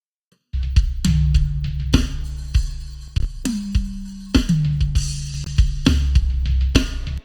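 Dry drum pattern with punchy kicks and snare hits, sharp and close with no room tail, steady groove repeating over several bars.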